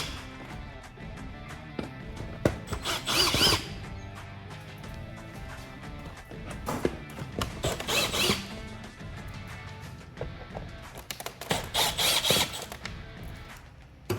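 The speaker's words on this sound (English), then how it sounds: "we're gonna do that by removing these 4 screws in the corners." A power drill backs out corner screws from the lower black section of a fourth-generation Toyota Tacoma's front bumper, heard close up in three short whirring bursts spaced several seconds apart, with faint clicks and handling noise in between and no talking.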